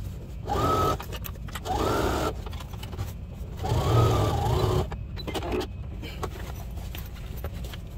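A sewing machine top stitching a duffle bag hums in several short motor runs with slight pitch rises, separated by pauses, over a steady low background rumble.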